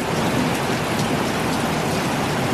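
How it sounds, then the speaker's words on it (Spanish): Heavy rain pours steadily after a night of downpour, a dense, constant close hiss of drops on surfaces with no pauses and no voices. "Se ha pasado toda la noche lloviendo. Y por lo que veo el día también va a estar de agua"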